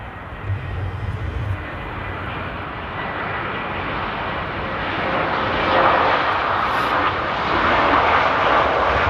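A Qatar Airways Airbus A350 jet airliner arrives at Amsterdam airport on a windy day, a steady broadband engine roar that builds slightly louder as the aircraft approaches.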